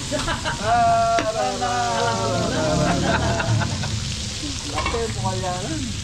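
Garlic and onion sautéing for chicken pastel at a fiesta cookout in Pampang, Angeles, Pampanga, loud steady sizzling and frying close by, with a voice speaking over it.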